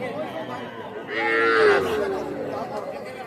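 Young bull calves at a traditional rural cattle market, with one clear drawn-out moo rising midway over a busy crowd background.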